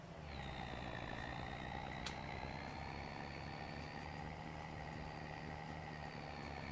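A truck pulling a trailer through tight downtown streets in Farming Simulator 25 gives a steady, loud engine drone with a whining tone, and one sharp click partway through.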